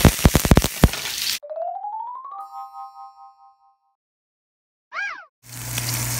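Tomatoes and onions toasting in a pan sizzle in two loud bursts, at the start and at the end, with chimes and a rising electronic tone between them.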